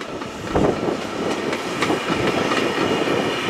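The Royal Scotsman train rolls past nearby on the line, a steady rumble with rhythmic clickety-clack of wheels over rail joints continuing throughout.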